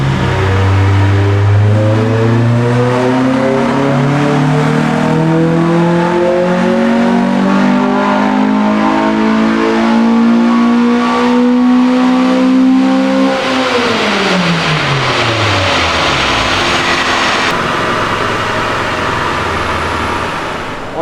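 A car engine on a dyno climbs steadily from 3,500 RPM in one long, loud, rising pull, then cuts off and winds down as the revs drop away.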